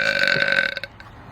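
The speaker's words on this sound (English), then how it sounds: "She can burp on command." A woman, a cosplay streamer, lets out a single loud, drawn-out burp on command. It holds a strong, buzzing tone for almost a second, then sputters and fades into silence.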